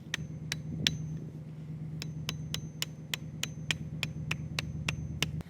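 A rapid series of sharp hammer taps rings out over a steady low hum, speeding up into a quick, even rhythm of strikes.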